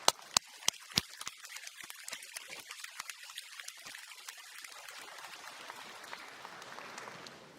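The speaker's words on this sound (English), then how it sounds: "and give them a round of applause." A large audience at an engineering faculty graduation ceremony gives sustained, fairly distant applause, opening with a few sharp individual claps that blend into a dense patter of clapping and then thin gradually.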